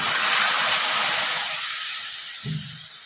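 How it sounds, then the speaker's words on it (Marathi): Water hits a hot kadhai of spiced mung and masoor lentil amti with black masala and red chilli powder, giving a loud, broad sizzling hiss that slowly fades, with a small clink near the end. "थोडस मी इथं पाणी घालते"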